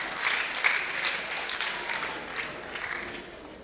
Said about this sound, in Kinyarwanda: mwabiha amashyi mw'abana.